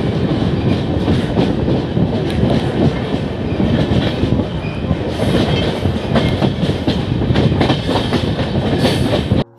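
A passenger train pulls out of a junction on the Etawah to Aligarh route, its carriages rumbling with steady clickety-clack wheel beats, loud and close from the start.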